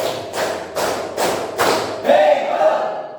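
In a teachers' gathering, a group claps in unison to a called three-clap pattern: four loud, evenly spaced claps land in steady rhythm, then voices call out briefly as the clapping stops.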